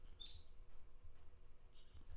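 Pet bird Charlie gives a few faint, high chirps, a brief cluster near the start and another toward the end, over low room hum with no talking.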